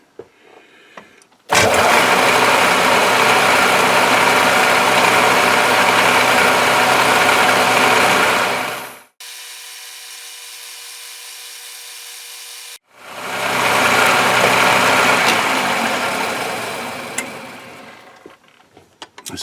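A metal lathe parting off a workpiece with a parting tool, loud steady grinding whine for several seconds, a brief quieter idling pause, then the cut resumes and fades out.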